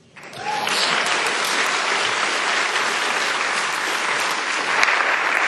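An audience breaks into applause during the Nevada governor's State of the State speech, rising quickly after a brief lull into a sustained, even roar of many clapping hands that fills the hall.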